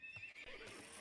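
Horses neighing and whinnying in a strategy video game, a short close burst with hoof clip-clop mixed in, loud and without talk over it.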